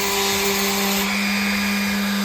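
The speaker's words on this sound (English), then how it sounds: "As we started sanding this thing" A power sander whirs steadily at close range while sanding paint off a truck bumper, a continuous motor drone whose pitch drops partway through, with no talking.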